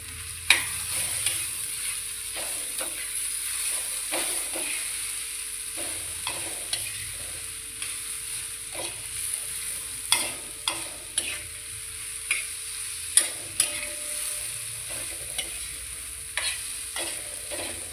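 Frying masala with salt in a pan stirred steadily, a constant close sizzle under repeated scraping strokes of the spoon against the pan at a regular pace, with no talking.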